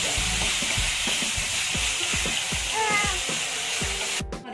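Onions fry in a pan toward golden brown for matar paneer, a steady hiss of sizzling oil broken by regular knocks and scrapes of a stirring spoon.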